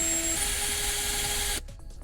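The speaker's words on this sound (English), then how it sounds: "using the drill, you can definitely take a sanding stick and get this spinning" A power drill spins a part held against a sanding stick, giving a steady high whine with faint grinding for about a second and a half before it cuts off abruptly, leaving a few quiet handling sounds.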